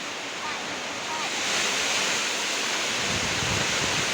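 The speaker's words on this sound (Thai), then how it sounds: "ทั้งลมทั้งฝนพี่น้องเอ้ย" Strong wind and heavy rain during a storm in rural Laos roar as a dense, continuous hiss that swells louder about midway, close and unbroken.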